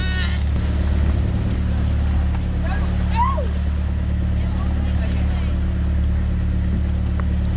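Steady low motorboat engine drone with water and wind noise off Malapascua Island, Philippines, a close, continuous hum running throughout, with brief faint voices in the background.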